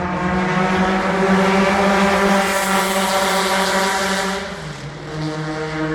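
Vintage Ford GT race cars lapping at night at the Le Mans Classic, a loud, sustained engine howl climbing as the car approaches, then the pitch drops sharply as it passes and fades, followed by another engine building.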